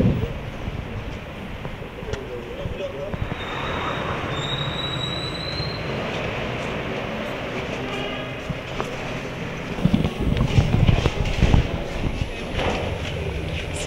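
A Paris metro train runs through the subway with a steady rumbling roar, metallic wheel squeals and rattling, growing louder and harsher toward the end.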